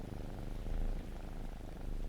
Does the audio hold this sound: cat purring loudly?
yes